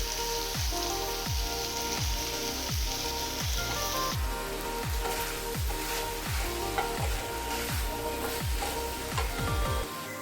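Mushrooms frying with salt and chili powder hiss in a hot pan, with a rhythmic run of regular stirring scrapes throughout and a continuous sizzle beneath.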